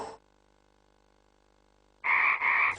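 A frog croaks loudly and close in two quick back-to-back bursts after a long quiet pause, standing alone with no talk, in a children's sound-matching game alongside a hoover and a tambourine.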